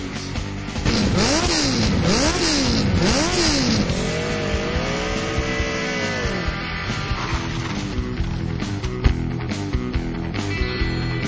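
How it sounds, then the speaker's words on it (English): A loud engine revs up and down repeatedly, rising and falling in pitch, then settles into a sustained roar of a fast-moving vehicle. "Rev up your engines."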